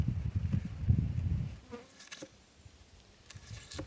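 Honey bees buzz inside a Layens beehive, loud and close for the first second and a half, then fading to a fainter hum broken by light tapping and rustling.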